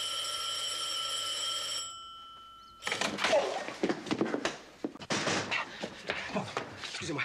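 A telephone rings in an office with a steady electronic tone for about two seconds, then stops. Handling clatter and a person speaking follow.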